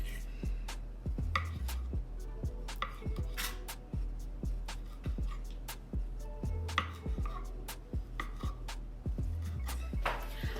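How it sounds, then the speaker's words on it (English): Brisk knife chopping on a cutting board while slicing ingredients into circles for a home brunch, dozens of sharp, even taps in a steady rhythm with a few short pauses, close and clear with no talking. "we're gonna cut these up into circles."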